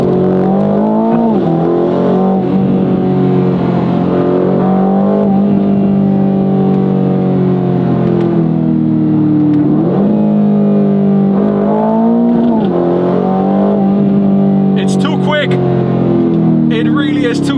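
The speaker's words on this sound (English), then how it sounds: "let's test out full throttle" A 2025 Aston Martin Vantage in Sport Plus mode roars under full throttle, its engine note climbing repeatedly through rising sweeps and dropping at gear changes, loud and continuous from inside the car.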